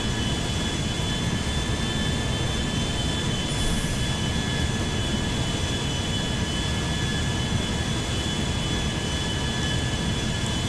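An Airbus A350 in GTA 5 rolls along the runway after landing, its jet engines producing a constant loud roar and whine that holds steady throughout with no talking.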